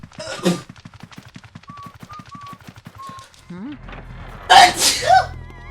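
A person sneezes loudly near the end, preceded by a sharp intake of breath, after a stretch of rapid rattling noises from the video game Luigi's Mansion.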